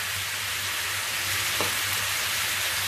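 Vegetables with turmeric frying in a pan for a Tamil white curry, an even close sizzle with a low hum beneath and one brief crackle partway through, no talking.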